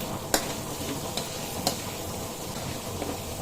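A pork dish sizzling steadily in a pan as it is stirred, a constant hiss of frying with a few light spoon clicks against the pan, close by.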